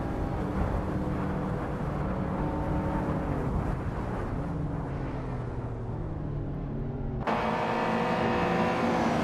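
Several race cars roar together in a video game, a dense layered engine drone with pitch shifts as they battle for position, steady and loud throughout, with a sharp change in engine tone near the end.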